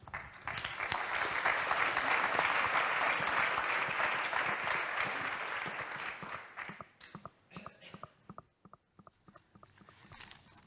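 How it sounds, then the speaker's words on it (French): A conference hall audience at a national humanitarian conference applauds its moderators with loud, dense, sustained clapping that gradually thins out into a few scattered, fading claps near the end. "on peut applaudir"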